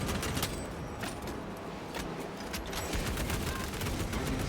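Sustained gunfire pours into an enemy group in Warhammer 40,000: Space Marine 2, a dense fusillade of rapid shots and bursts that runs loud and continuous, with battle noise layered through it.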